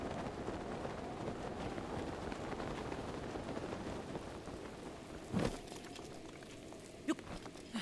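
Steady rain hissing and pattering in the Zelda: Breath of the Wild game world, a continuous broadband wash with a couple of brief louder knocks near the end.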